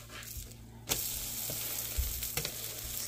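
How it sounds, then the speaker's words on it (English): A thick paratha stuffed with potato and vegetables fries on a pan with a steady, close sizzling hiss, broken by a few soft thumps and scrapes as it is moved. "Let it cook for 5 minutes so it is all properly cooked in and out"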